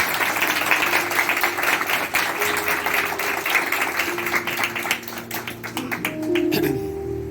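A church congregation at a Palm Sunday service applauds loudly, with crisp overlapping claps over a hum of voices and sustained tones, tapering slightly toward the end.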